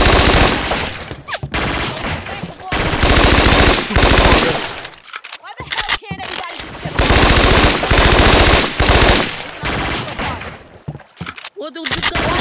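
Loud, sustained machine-gun fire and rapid gunshots in the Scarface: The World is Yours video game, coming in long dense bursts with short gaps, with shouted voices over the shooting.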